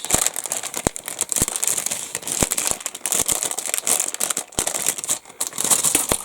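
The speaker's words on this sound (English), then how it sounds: "Sorry for the rustling bagging." Plastic bagging around the parts sprues of a Great Wall Hobby 1/72 F-14A Tomcat model kit crinkles and crackles close up, with steady rustling and a scatter of sharp snaps throughout.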